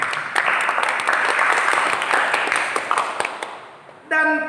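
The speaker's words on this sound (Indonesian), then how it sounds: "Mari kita berikan tepuk tangan dulu" A church congregation claps together in a dense burst of applause that gradually thins and fades, followed at the end by a short sustained tone.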